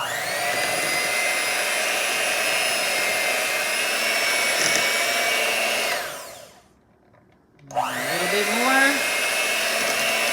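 An electric hand mixer whirs steadily at high speed through sweet potato pie filling, cuts out for about a second, then spins back up with a rising whine; a voice speaks briefly over it.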